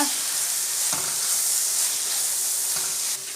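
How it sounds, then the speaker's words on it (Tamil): Pasta being stirred in a hot pan with fried rice seasoning mix, giving a steady close sizzle with brief scraping stirs, no voices. "இப்போ நல்லா ஃப்ரைட் ரைஸ் மிக்ஸ் போட்டதுக்கப்புறம் இன்னொன்று கூட நல்லா கிளறி விட்டுக்கோங்க"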